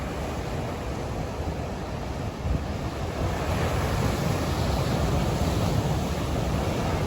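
Continuous ocean surf washes in with a broad steady roar, with wind blowing across the microphone throughout and no voices.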